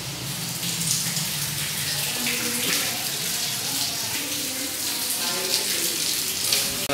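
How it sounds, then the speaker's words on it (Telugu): Steady rain pouring down onto trees outside a house in Vizianagaram during the first monsoon shower, a constant dense hiss with splashing and dripping, close and continuous throughout with no talk. "మంచి వర్షం పడుతుంది."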